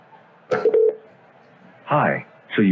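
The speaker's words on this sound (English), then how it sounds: "I'm just using my Vonage phone to make a call." A Vonage phone dials a call, with short tonal dialing beeps followed by brief voiced sounds, close and clear, with someone speaking around the tones.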